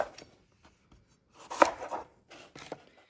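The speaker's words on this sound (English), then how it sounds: "So I've cut the whole apple in half, and I'm going to cut it in quarters." A knife cutting an apple half into quarters on a flat surface, a few soft, irregular cuts and scrapes near at hand, one louder crunching chop in the middle, otherwise quiet.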